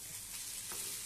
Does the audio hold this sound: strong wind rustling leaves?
no